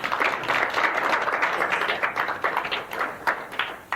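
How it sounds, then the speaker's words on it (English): Audience at a book launch on multilingualism clapping for a professor, a brisk continuous patter of many hands, fairly close and loud, lasting a few seconds. "May we please give the round of applause again to Prof."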